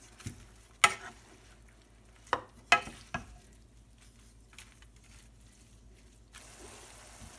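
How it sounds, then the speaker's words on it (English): Kale in a pot with kosher salt is stirred, giving a few sharp scrapes and clinks over a quiet, faint simmering background, then calm near the end. "We're going to stir it up a little bit."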